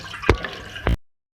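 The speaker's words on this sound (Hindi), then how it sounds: "1 गिलास में इसमें पानी ऐड कर रही हूँ।" Glass of water poured into cooking chana dal in a pot, two short splashing gushes close by, the second heavier, then silence.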